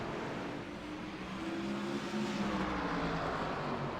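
Race cars roar around the track after a restart behind a pace car, a continuous dense engine drone at moderate distance that swells slightly toward the end, with no talk.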